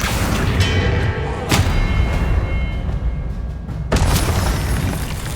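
Spell blasts in Hogwarts Legacy land as loud booming impacts, with two sharp crashes standing out over a dense, rumbling wash of combat noise.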